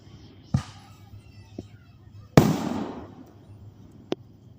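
A July 3rd fireworks show pops with a few sharp, scattered bursts, one louder crackling blast trailing off mid-clip, heard from a distance over quiet background murmur.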